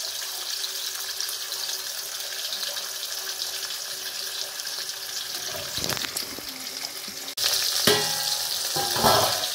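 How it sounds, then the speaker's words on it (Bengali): Bhola fish frying in a pan: a steady oily sizzle hisses throughout, with louder scraping and stirring clatter near the end. "হ্যাঁ বন্ধুরা, মাছ ভাজা বসিয়েছি। এই দেখো, ভোলা মাছ কিন্তু একটু ভালো করে ভাজতে হবে"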